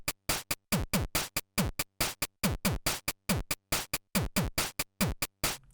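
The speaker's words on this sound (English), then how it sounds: "put your hi-hat on all of the 8th notes like this" A PO-20 drum machine plays a tight beat with hi-hats on every eighth note, punchy kicks and snares in a steady repeating groove, heard alone and close.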